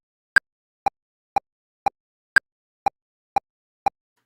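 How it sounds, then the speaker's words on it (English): The REAPER metronome ticks at its default 120 BPM, eight crisp, evenly spaced clicks alone in silence, with the first and fifth clicks accented higher and louder as bar downbeats. "so they will most likely sound like this if you enable the metronome."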